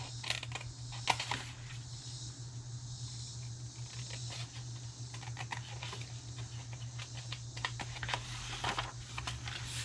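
Scissors snip and notch a small craft bag in quick, irregular clicks and crisp cuts, faint and close over a low electrical hum.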